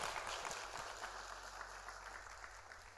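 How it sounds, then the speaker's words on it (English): A church congregation claps along in a loud, dense, continuous wash of applause that fills the room, with only faint voices underneath. "Clap your hands like you and your house are going to rise up."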